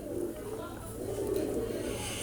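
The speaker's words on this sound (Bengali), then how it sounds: "গোল্ডেন কবুতর।" A golden teddy pigeon cooing softly at a bird sale, a low continuous burbling coo that carries on throughout, fairly faint against a background hum.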